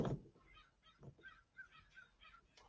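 A flock of black birds on a house roof across the street calls in a series of faint, distant honking cries spaced through a quiet outdoor scene.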